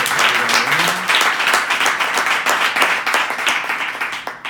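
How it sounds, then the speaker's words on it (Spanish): A room of people at a mindfulness workshop and book presentation breaks into loud, sustained applause, dense overlapping claps continuing steadily throughout with a brief faint voice early on. "Un aplauso para ellos"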